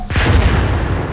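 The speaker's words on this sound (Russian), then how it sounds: "Все, взрываю." A single loud, deep explosion in the video game Arma 3 erupts and rumbles on briefly, heavy and close.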